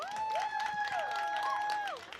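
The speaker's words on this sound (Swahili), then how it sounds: "Tuwapige makofi." An audience at a film and cinematic arts event applauds for a team supervisor, a moderately distant patter of clapping under sustained whistle-like tones that fade out near the end.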